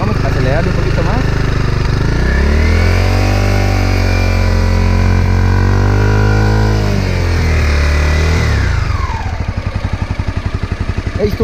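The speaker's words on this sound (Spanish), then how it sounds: "la aceleramos a 7000 revoluciones" A Honda CBR250R motorcycle engine revs up to about 7000 rpm, holds high, then drops back toward idle: a loud, close, smooth rising and falling engine tone.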